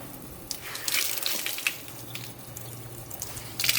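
Tap water runs steadily into a sink while a makeup beauty blender sponge is rinsed under it, with brief gushing splashes as the sponge is squeezed, close and moderately loud.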